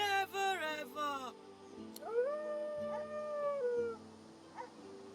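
A dog howls in the fantasy game Divinity Original Sin 2, with long, wavering tonal wails that rise and slide down, mixed with voices and a low ambient drone.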